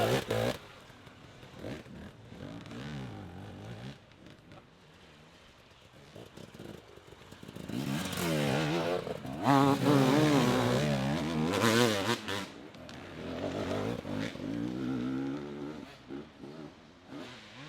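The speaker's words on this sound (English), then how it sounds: "Now that's Luke Flack there on the Sherco 300 4-stroke" A Sherco 300 four-stroke trial motorcycle races at an extreme enduro event in the woods, its engine revving and rising in pitch in repeated bursts, louder in the middle, with a crowd and commentary mixed in.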